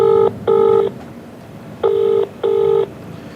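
Telephone keypad dialing tones for placing a call, four clear steady beeps in two pairs, close and fairly loud, with no talk.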